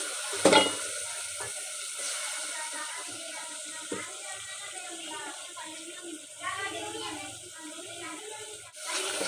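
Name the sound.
fenugreek leaves added to frying peas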